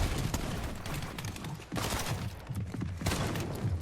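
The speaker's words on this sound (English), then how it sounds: "There it is, the shotgun to catch him." Shotgun fire in a Fortnite match, several booming shots mixed into busy game noise and thuds, spaced irregularly across the short stretch without any voices.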